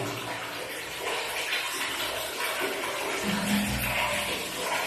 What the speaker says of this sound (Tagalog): Maligo si Rana